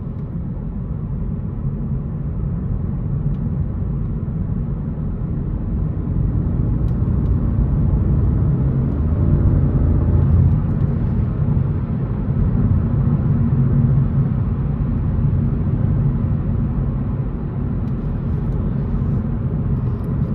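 A Honda Civic drives in the rain, heard from inside the car as a steady low rumble of engine and road noise with a continuous whir throughout.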